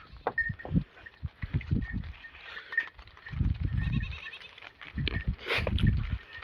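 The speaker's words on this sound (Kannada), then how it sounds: "ಇನ್ನು ಭಾಳ ಹಿಂದದಾವ ಕುರಿಗಳು." A flock of sheep bleating outdoors in the Karnataka countryside, with repeated overlapping calls from several animals at varying distances, some near and loud, others fainter behind.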